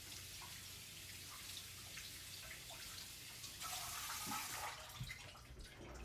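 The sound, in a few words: washing blueberries under a running tap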